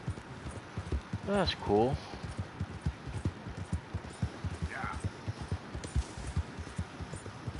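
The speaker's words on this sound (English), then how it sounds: "I know it's a bunch of wild horses" Horse hooves clip-clop at a steady walking pace in Red Dead Redemption 2, a continuous run of soft, close hoofbeats, with someone briefly speaking over them.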